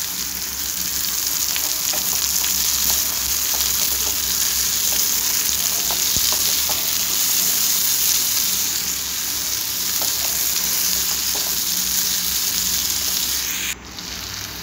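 Sliced onions fry in a pan with a loud, close, continuous sizzle, dotted with faint stirring clicks, then cut off abruptly near the end.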